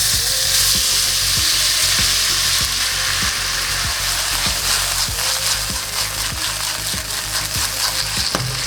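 Marinated beef fries in oil in a pan over medium-high heat, giving a steady, loud sizzle throughout with occasional soft clicks and scrapes of stirring, with no voices.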